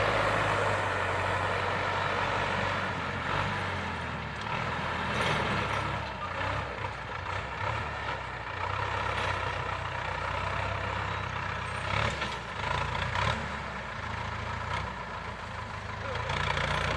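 A Ford farm tractor pulling a six-disc plough to ridge a field for planting cassava: a loud, steady engine drone with slight rises and dips throughout, and faint voices now and then.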